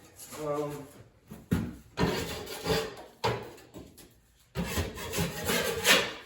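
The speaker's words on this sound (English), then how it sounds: "Just gonna scrape off whatever's need to be scraped off." Rough scraping on a wall surface to prepare it for drywall finishing, heard as several harsh rasping strokes at close range separated by short pauses.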